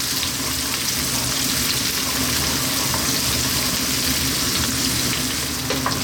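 Onion frying in sunflower oil over maximum heat: a loud, steady, close sizzle with a bright crackling hiss that runs without a break.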